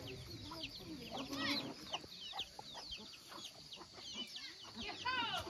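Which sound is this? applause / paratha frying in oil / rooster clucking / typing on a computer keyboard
rooster clucking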